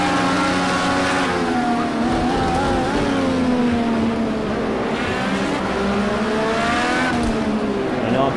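An IndyCar race car engine at Sonoma in the Project CARS 2 racing game screams loudly and continuously, its pitch climbing and dropping as it revs through gear changes and corners.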